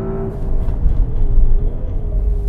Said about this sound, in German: Sound geht auch mehr als in Ordnung. 4 Liter V8 Biturbo, jetzt Monoscroll Lader.